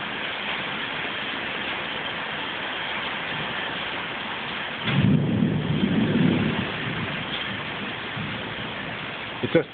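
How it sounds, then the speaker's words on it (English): Thunderstorm with heavy tropical rain: a steady, dense roar of rainfall throughout, with a deep rumble of thunder swelling in around the middle and fading back into the downpour. "I've never known such a storm."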